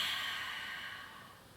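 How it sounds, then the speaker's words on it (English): A single slow breath pushed out through the mouth during a yoga flow, a soft airy hiss that fades gradually, close and quiet with no talking. "Exhale out through the mouth."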